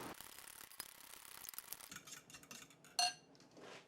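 Potato salad dressing of dill, salt and pepper being stirred in a bowl, quick scraping and clinking of a utensil against the dish in irregular bursts, with a sharper clink near the end.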